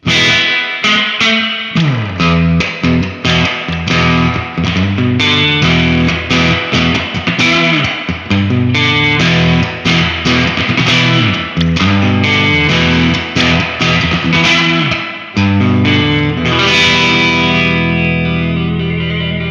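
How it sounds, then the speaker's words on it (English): Electric guitar chords and single notes ring through the spring mode of a Boss RV-5 digital reverb pedal, splashy and drippy, the tails washing and echoing behind each strum. "the spring mode is meant to emulate the traditional spring tank reverbs"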